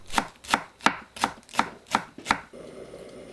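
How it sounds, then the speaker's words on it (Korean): A knife chopping green onions on a board, seven evenly spaced crisp thuds at a brisk steady rhythm, close and clear, then a soft hiss as it stops. "파는 한 병 정도 되는 양을 준비하고 썰어주세요."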